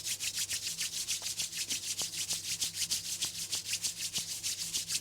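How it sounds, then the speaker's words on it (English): Palms of the hands rub together briskly in a quiet room during a yoga stretch. The soft, even swishing strokes repeat in a steady back-and-forth rhythm, close and alone. "you can start to rub the palms of the hands in front of your chest."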